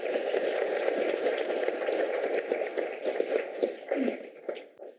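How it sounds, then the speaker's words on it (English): Guests at a Jefferson County housing and economy presentation give the evening's sponsors a round of applause, a steady wash of clapping that thins and fades toward the end. "please give a round of applause to all of our sponsors who made tonight happen"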